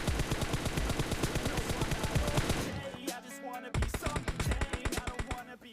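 Rapid automatic gunfire in a video game crackles in fast, steady bursts, briefly pausing before resuming with another string of shots, loud and close. Faint speech can be heard in the background.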